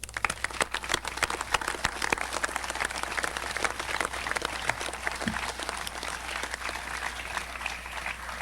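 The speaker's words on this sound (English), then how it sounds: "And join with me in applauding them again." Audience applause at a sit-down strike commemoration ceremony in Janesville honoring the 1937 sit-downers, a steady wash of many clapping hands sustained throughout at moderate distance.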